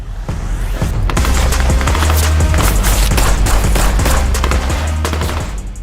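Airsoft gun fired by an actor while running, recorded for short film footage: a loud, dense run of rapid cracking shots continuing throughout, close and steady with no talking.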